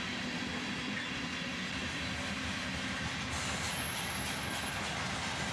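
A CSX loaded ore train headed by a single ES40DC locomotive rolls past, a steady heavy rumble of wheels and cars filling the whole stretch with no voices.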